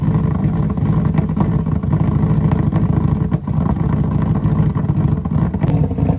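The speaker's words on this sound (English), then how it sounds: "One of the first things we added was rotational idle. It sounds cool" A Subaru rally build's engine runs in rotational idle anti-lag, a loud, steady, rough idle with a choppy, uneven pulse and occasional sharp pops, heard close with no speech.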